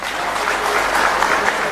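A crowd at a Nabhik community awareness gathering in Aurangabad claps to welcome a teacher-constituency candidate to the stage, loud continuous applause filling the whole stretch.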